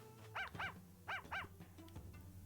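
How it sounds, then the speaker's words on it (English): Dog barking in Ace Attorney: Spirit of Justice, two pairs of quick close barks followed by softer yips, over a low background tone. "Dog noises."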